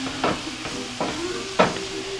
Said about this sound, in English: So it starts to sizzle a little bit. That's because of the water from the tomato,